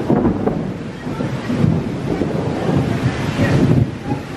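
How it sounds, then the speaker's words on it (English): Heavy rain pours down during a thunderstorm at an outdoor festival seating area, a loud continuous roar of downpour mixed with gusty wind buffeting the microphone and deep rumbling, close and enveloping with no speech. "The rain started to encroach on where we were sitting"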